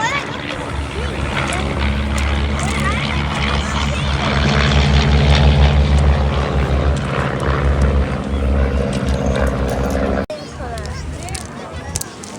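Propeller-driven aircraft engine droning steadily and loudly overhead at an Irish air show in Bray, with a continuous low rumble that swells in the middle before easing off, and crowd voices beneath.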